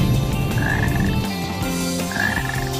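Frogs croak repeatedly in the Sonic Heroes video game, a steady loud chorus of deep rhythmic croaks with a few higher chirping calls over a game soundtrack, with no talking.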